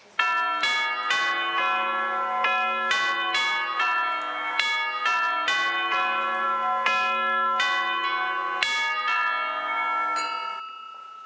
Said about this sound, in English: Scrooge awoke suddenly to the toll of the bell and sat up in bed.